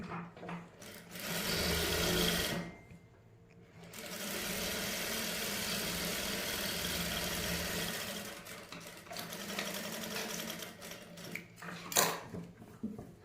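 Sewing machine stitching the neckline of a dress, a fast, even motor whir in long runs separated by short pauses, fairly quiet and close, with no speech.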